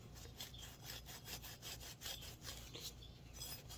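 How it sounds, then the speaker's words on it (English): A Scotch-Brite pad scrubs the chrome mirror ball socket of a 1967 Plymouth Fury in quick, rhythmic back-and-forth strokes, close and steady, with no talking. "I just wanted to clean this socket up, this ball. Just taking a Scotch-Brite."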